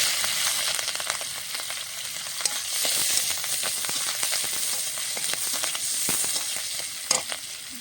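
Green chillies sizzle in hot oil while frying for a small fish curry with sour spinach, a steady close crackle and hiss with occasional stirring scrapes and pops, no voices.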